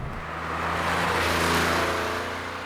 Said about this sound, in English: That flat 6 engine. One of the world's greatest engineering achievements.